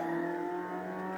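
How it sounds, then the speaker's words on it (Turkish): A steady engine hum with strong tonal harmonics holds at constant pitch, a synthetic-sounding car motor in a PC racing game idling evenly throughout, with no talk. "Harbiden bayağı güzel bu arabanın sesi"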